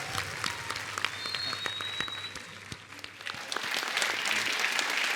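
A studio audience applauds to welcome guest Prem Sagar onto a show, with dense, lively clapping that builds toward the end and voices heard under it.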